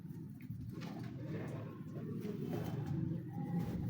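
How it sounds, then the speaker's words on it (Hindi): Kalu Baloch breed pigeon cooing close by in soft repeated low throaty coos over a quiet background. "ये दूसरा कबूतर है।"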